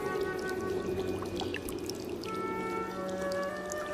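Water pours steadily from a natural spring coming straight out of the ground, a continuous splashing wash heard beneath sustained tonal music.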